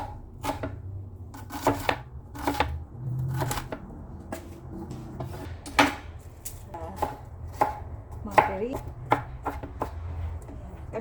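An onion is chopped on a board, sharp knife strikes landing in an uneven rhythm of a dozen or so hits, close and fairly clear over a low background hum, with no talking.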